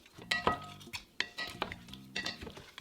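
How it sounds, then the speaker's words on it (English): Shrimp, ground pork and dressing are tossed together for a seafood salad, giving close, repeated clinks and scrapes of utensils against a bowl in three short bursts. "shrimp, ground pork, and the dressing. Toss it together."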